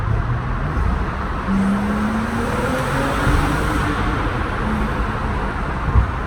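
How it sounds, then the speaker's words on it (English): A Porsche 911 turbo engine rumbles steadily inside a tunnel, a continuous low drone that swells slightly and echoes off the walls, with brief tonal whines rising above it and no talking. "Let me see if I can get some turbo sounds in the tunnel."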